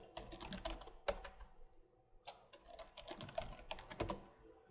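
Fingers typing on a computer keyboard to enter a login, two quick bursts of close, crisp key clicks separated by a short pause, quiet and alone.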